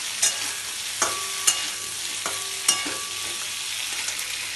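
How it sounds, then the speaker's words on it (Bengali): Boiled, cut potatoes frying in hot oil, a soft continuous sizzle close by, broken by a few sharp clinks and scrapes of a utensil stirring in the pan, with no talking. "বয়েল করা আলু কেটে রেখেছি, এবার এটাই তেলের মধ্যে দিয়ে দেবো।"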